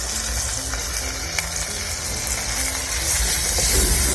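Ginger-garlic paste and turmeric frying in a pan of masala, a steady close sizzle with light stirring and scraping of a spoon, growing a little louder toward the end.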